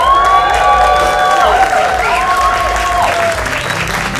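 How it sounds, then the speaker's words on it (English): Wedding guests at a ceremony at the Four Seasons in Santa Barbara break into loud, dense applause for the newlyweds, with some cheering mixed in over the clapping. "please give me a round of applause to our newlyweds, Mr. and Mrs. Pimentel."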